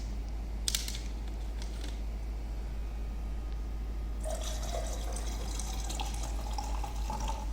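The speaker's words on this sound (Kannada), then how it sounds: "ನೀರು ಮಿಕ್ಸ್ ಮಾಡೋಣ." Water poured into a drink to mix it, heard as a steady trickle and splash that grows clearer in the second half, mixed with faint creaks and handling noises against a constant low hum.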